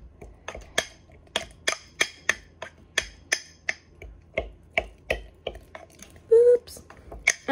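A mixture stirred in a microwave dish, with a steady series of sharp spoon clicks against the dish at close range and one brief voice sound near the end.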